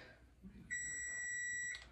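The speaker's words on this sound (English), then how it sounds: "Oh, that's my alarm." A single steady electronic beep sounds for about a second, high-pitched and fairly quiet, over a faint background.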